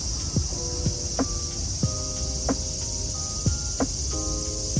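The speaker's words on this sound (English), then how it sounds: "cicadas are really loud" Steady high cicada buzzing fills the background, loud and constant, with repeated short chirping calls over it.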